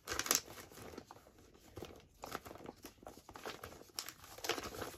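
Sheets of real marbled paper handled at close range give soft crinkling and rustling, with a sharp crackle near the start and intermittent papery shuffles throughout; no voices.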